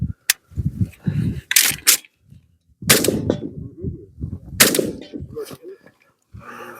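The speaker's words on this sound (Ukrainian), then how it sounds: "Зараз зроблю пару пострілів та й все." Several sharp, loud rifle shots crack at irregular intervals, each followed by a brief rumbling echo, with quiet gaps between.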